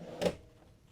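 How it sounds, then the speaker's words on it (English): A single short pull-out drawer slide in a 2025 Newmar Ventana 4037 motorhome, a quick soft scrape and thump lasting a fraction of a second, close by in a quiet room. "And then some nice pull-out drawers."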